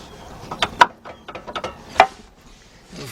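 A drive axle is worked out of a car transmission on a Chrysler Sebring or Dodge Journey/Avenger, giving a series of close metallic clunks, clicks and scrapes in an irregular rhythm over a few seconds.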